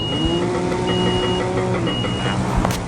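Construction machinery in the video game Construction Simulator 2 drives with a steady engine rumble, intermittent reversing beeps sounding over the drone at a close, even level.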